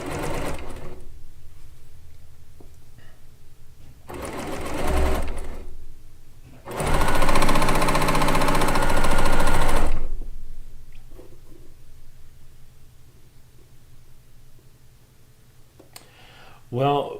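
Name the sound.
Baby Lock blind hemming sewing machine running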